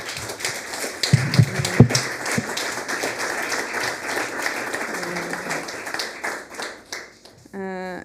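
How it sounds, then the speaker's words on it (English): Audience applause for a conference panel, a broad steady wash of clapping that runs the length of the clip with some louder claps early on, and a voice briefly heard near the end. "a round of applause for the panel"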